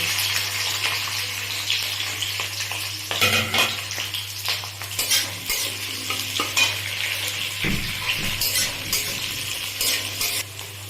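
Green chilli and capsicum frying in hot oil in a pan, a steady crackling sizzle with bursts of stirring and scraping from a spatula, close and fairly loud, no voices.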